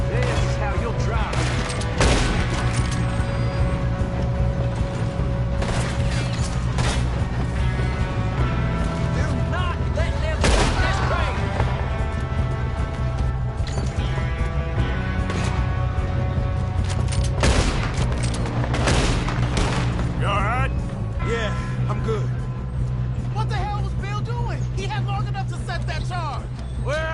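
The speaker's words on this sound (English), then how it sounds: "One of you shoot those bastards!" Video game shootout gunfire, dense volleys of shots and booms crackling almost nonstop with some sharper bursts, while voices shout over the din.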